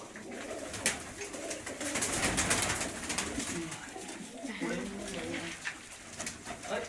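Pigeons coo in soft, rolling calls amid a busy loft, with someone talking nearby and general background commotion throughout.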